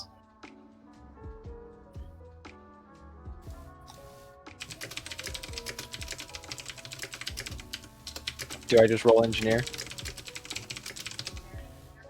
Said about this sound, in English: I was typing to in the chat